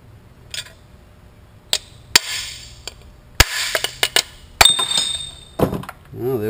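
A Mazda turbocharger is taken apart with tools: scattered sharp metallic knocks and clinks, several loud close strikes separated by short quiet gaps.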